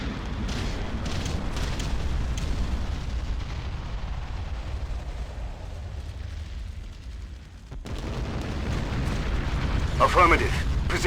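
Artillery bombardment in the strategy video game Ground Control sends up continuous rumbling explosions and booms, dense and heavy, dipping briefly before louder blasts return near the end.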